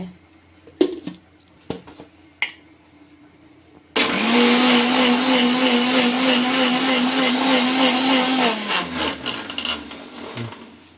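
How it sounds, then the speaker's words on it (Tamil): An electric kitchen mixer grinder churns curd for a buttermilk curry made with pumpkin, starting abruptly after a few light clinks and running as a loud steady whir for about five seconds before winding down. "இந்த கட்டி கட்டியாக இல்லாமல் மிக்சியில் போட்டு ஒரு க்ரஷ் சுற்றிக்கலாங்க"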